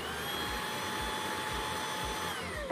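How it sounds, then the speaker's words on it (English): A Dreame V11 cordless stick vacuum cleaner runs in eco mode with a steady, fairly quiet motor whine and a faint rhythmic pulsing, ending with a short click. "So our vacuum cleaner is on echo mode."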